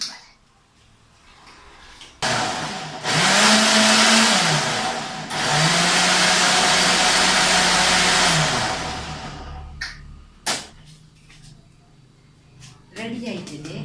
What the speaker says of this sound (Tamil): மிக்ஸ் பண்ணிட்டு ஒரு 30 செகண்ட் அப்படி கிரைண்ட் பண்ணேன்